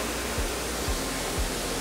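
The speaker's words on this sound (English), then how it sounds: "I am at the Ndambarare waterfall." The Ndambarare waterfall in Nyungwe National Park roars as a constant broad wash of falling water, steady and enveloping with no other sounds standing out.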